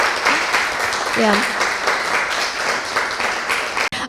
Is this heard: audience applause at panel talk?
yes